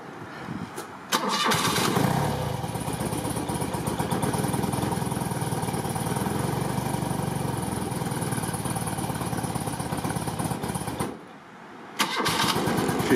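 A cold 1985 BMW R80RT motorcycle engine cranks steadily at close range for about ten seconds without catching, then stops, and cranking resumes briefly at the end.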